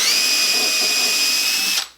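Power drill boring a hole into a wooden ukulele neck, a high steady whine running continuously up close for under two seconds before stopping and spinning down.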